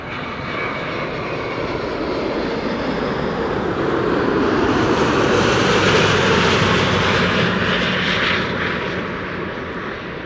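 A passenger jet arriving at Amsterdam Schiphol Airport produces a loud, steady roar that swells to a peak mid-pass and slowly fades, heard alone without voices.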